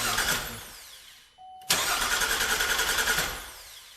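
A 2012 GMC Acadia's 3.6-litre V6, newly assembled, cranks to build oil pressure with a rhythmic starter whir, pauses briefly, then cranks again in a loud, close burst before winding down.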